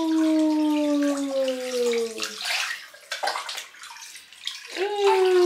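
Warm salted water in a baby's bath sloshes and trickles softly, with a high sustained tone gliding downward early on and light splashes, while adults talk quietly nearby.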